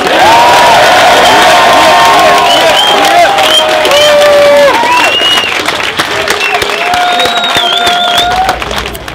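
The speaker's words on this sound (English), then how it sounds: "It seemed like you would like to clap right now." Loud crowd noise at a bar comedy show, with clapping, whoops and shouted cheers rising over lively chatter and raised voices throughout.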